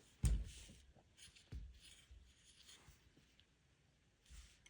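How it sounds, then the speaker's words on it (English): Pen or pencil scratching out a step of a math practice problem, a few quick strokes with light taps, close and fairly quiet against a soft room background. "So just write that step down."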